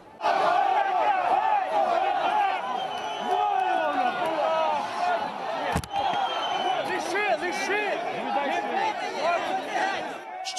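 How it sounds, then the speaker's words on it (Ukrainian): A crowd of about 20,000 storming the Ivano-Frankivsk regional state administration building roars and shouts all at once, many overlapping voices yelling continuously, loud and close, with a sharp bang partway through. "Івано-Франківську облдержадміністрацію штурмує 20-тисячний натовп."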